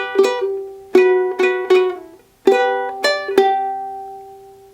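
Ukulele picking a melody, bright plucked notes ringing out one at a time in a bouncy rhythm with short pauses, close and clear with no voice.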